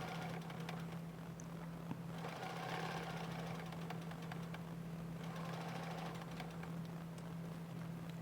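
A sewing machine runs a continuous satin stitch around an appliqué on a quilt block, its motor holding a steady hum with a rapid, even needle chatter at moderate distance, uninterrupted for the whole stretch.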